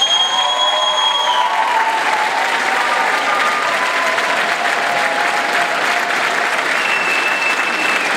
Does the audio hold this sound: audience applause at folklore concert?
yes